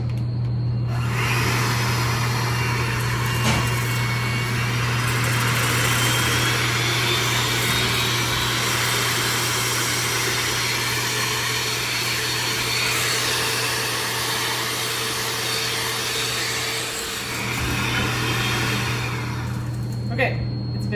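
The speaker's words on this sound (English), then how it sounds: "we're gonna add the sugar, gradually beating it until we get a nice stiff peak" An electric mixer whirs steadily while beating egg whites as sugar goes in gradually, a constant close motor drone that runs on and stops near the end, with a voice talking over it at times.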